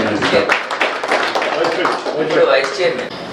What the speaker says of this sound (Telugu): ఒకసారి అంతా కూడా చప్పట్లతో అభినందిస్తారు